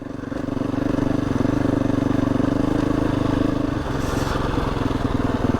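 A motorcycle crawling slowly over loose stones on an off-road track, its engine thumping steadily at low revs, loud and close, with faint clatter beneath.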